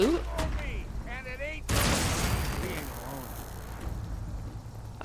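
Cannon fire in Fallout 4, the Far Harbor area: a sharp blast about 1.7 s in, followed by a long loud roar that fades slowly, with chirpy game effects before it and a voice talking over it.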